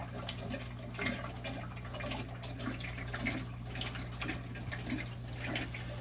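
Water splashes steadily from an aquarium hang-on breeder box in a continuous trickling flow with a low hum, without any talk.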